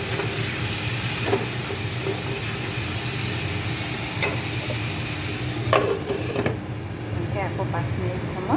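Chicken curry stirred in a hot pan, a loud continuous sizzle and hiss with occasional scraping strokes near the end, a voice faintly underneath.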